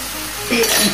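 Water poured into fried masala in a pan while cooking Shillong fish, starting with quiet cookware noise and then a sudden loud burst of hiss and sizzle with light metallic clinks.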